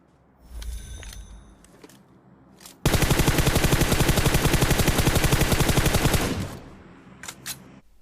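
M4 rifle fire in the PUBG Mobile game: a loud, sustained automatic burst of rapid shots lasting about three seconds, preceded and followed by quieter in-game clatter.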